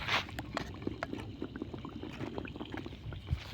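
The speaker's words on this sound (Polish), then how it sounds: "Woda się gotuje." Low bubbling and gurgling of water coming to a boil, with faint clinks and rumbles, no voices.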